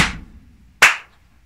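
A single sharp heel tap from a tap dancer's shoe during a relaxed-ankle technique lesson, a crisp close strike following the tail of an earlier tap, with no talk.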